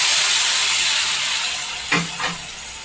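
Tomato juice is poured into a pan of mushroom curry cooking village style, giving a steady loud sizzle and hiss with two brief bubbling splashes near the end.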